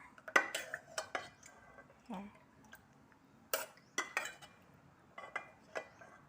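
Thai bananas in coconut milk are spooned into bowls, with quiet, irregular clinks and taps of a spoon against dishware and soft wet scoops in between.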